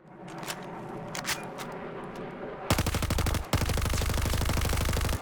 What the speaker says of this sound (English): I chose to burst fire the gun after I went down into ADS mode